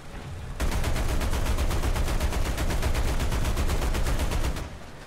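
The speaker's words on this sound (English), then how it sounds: "get a roof-mounted 50 caliber M2, which isn't great against most tanks" A roof-mounted .50 caliber M2 machine gun fires in War Thunder, a single sustained loud burst of rapid, evenly spaced shots lasting about four seconds before cutting off, with no talking.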